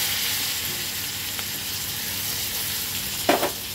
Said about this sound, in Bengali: জালটা কম রেখে এখন শুধু কষাতে হবে।